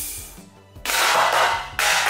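Air-powered Lego three-barrel shotgun firing: a sharp release and a burst of rushing air, followed by a second hiss, close and loud over a faint low hum.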